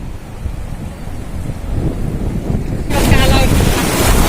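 Loud ocean surf at Ambolgad beach, a steady roar of waves with heavy wind buffeting the microphone and rising toward the end.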